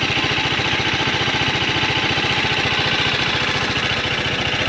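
A stock TVS Apache RR 310 motorcycle engine runs at a steady idle, close and loud, with an even rapid low thumping pulse throughout.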